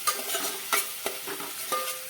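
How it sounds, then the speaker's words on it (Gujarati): Chopped tomato sautéing with onion in a pan, a steady soft sizzle broken by several sharp stirring scrapes, close and moderately quiet with no voices. "હવે તેમાં આપણે નાનું કટ કરેલું ટમેટું નાખી દઈએ. તેને પણ આપણે સારી રીતે સાતળી લેવાનું છે."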